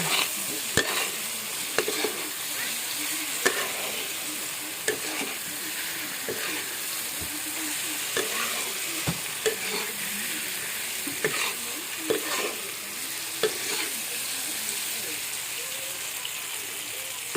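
Fried chicken nuggets being stirred in a pan, a steady soft sizzle with scattered clicks and scrapes of the utensil against the pan throughout, fairly faint and close, with no talking.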